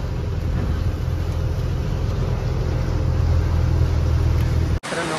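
A truck is parked at a Bangalore market in the rain, its engine giving a steady, loud low rumble with broadband road and rain noise. The sound holds constant until a brief sharp dropout near the end.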